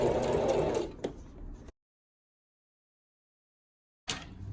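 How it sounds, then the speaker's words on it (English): Sewing machine stitching a seam on a wine duffle bag, slowing through a thick section at a cord tab; a steady hum of stitching runs for over a second, then a brief pause and a cut, with faint activity returning near the end. "you can stitch all the way to the end. It's thick down here where this cord tab is, so you can go slowly."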